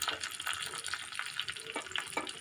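Whole spices and chopped green chillies fry in oil for a Bengali tempering for vegetarian aloo dum, a faint, steady sizzle with small crackling pops throughout.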